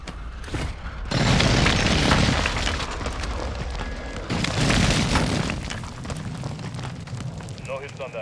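Airstrike explosions in Call of Duty: Modern Warfare II roar in as a heavy, sustained rumbling blast, followed by a second wave of booming detonations that fade into crackling debris and lingering battlefield noise.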